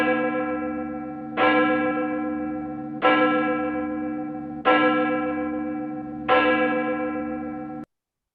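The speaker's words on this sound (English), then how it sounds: "And Rich, if you would ring the bell, I would appreciate it." A church bell rung during a Sunday service, four loud, evenly spaced strokes about every second and a half, each ringing out and decaying before the next, with no talk over it.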